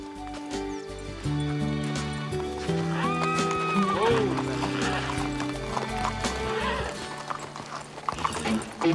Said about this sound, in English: I'll take the horses for a drink.